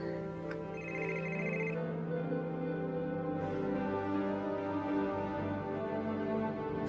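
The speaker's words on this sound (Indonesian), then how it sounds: "Tetangga telepon." A telephone rings with a repeating electronic trill, fairly clear against a steady background hum.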